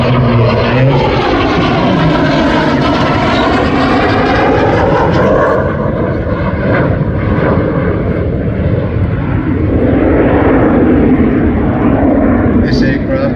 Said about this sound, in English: you might wonder why the South Vietnamese Air Force aircraft is flying with the 100 squadron